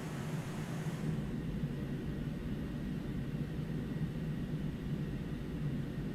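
Simulated engines of an Inibuilds A300-600F freighter in X-Plane 11 give a steady broadband roar with a low rumble during a steep climb, continuous and unchanging, with no talk.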